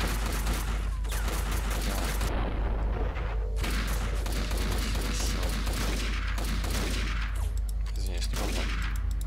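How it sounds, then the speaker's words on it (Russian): Sniper rifle fire in the video game Max Payne bursts out loud and close in a dense, booming barrage, heavy reports piling over one another almost without pause. "Давайте тогда возьмем вот это вот, снайперскую винтовку уже. Она по-другому стреляет"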